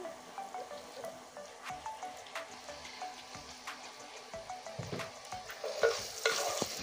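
Salted onions frying in a pan are stirred, a fairly quiet sizzle with rhythmic scraping strokes that grow a little louder toward the end.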